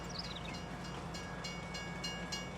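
A train in Farming Simulator 19 rolls past with a steady rumbling drone and faint rhythmic clatter, a brief horn-like tone sliding down near the start.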